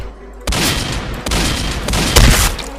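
Gunfire in the Roblox game Dead Rails, dense rapid bursts of shots with heavy booms, loud and continuous across the moment.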